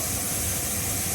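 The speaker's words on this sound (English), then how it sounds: "Here we see one of the 2 injectors being tested." Steady, loud hiss of a steam locomotive boiler injector under test on the narrow-gauge engine Jurassic, a continuous broadband rush with low rumble beneath, no talk.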